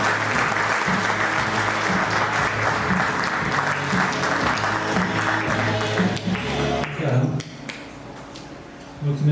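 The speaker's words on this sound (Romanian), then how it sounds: "Așa că haideți să îl aplaudăm și să-i auzim povestea." A live audience claps steadily for a speaker at a storytelling event in Oradea. The dense, sustained applause runs close and loud, with some background voices, before thinning out near the end.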